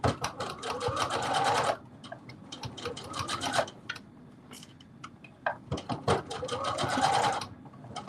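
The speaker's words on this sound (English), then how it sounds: "2 more pieces to sew interfacing on." A sewing machine stitches interfacing onto fabric mask pieces in fast, rattling bursts, close and loud, with short pauses between runs.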